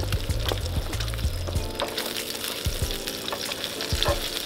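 Breakfast frying on a Genesis Basecamp camping stove outdoors while car camping, with a constant close sizzle broken by irregular spatters, pops and utensil clicks.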